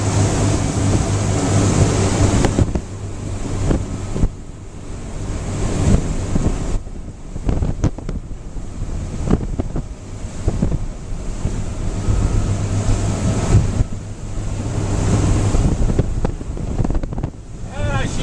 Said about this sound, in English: We got a strong west wind blowing, and another boat just passed us